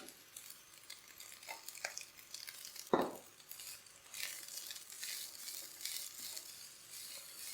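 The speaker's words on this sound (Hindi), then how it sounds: "बॉयल किया हुआ चिकन डाल देंगे, मिक्स कर लेंगे और प्याज भी डाल देंगे।" Boiled chicken and onion stirred together on a hot tawa while cooking a chicken roll filling, a steady quiet sizzle under occasional scraping and a sharp utensil knock, with the frying building slightly louder later.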